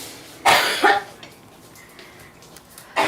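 A woman coughs sharply twice in quick succession, then a quiet pause, and a third cough follows near the end.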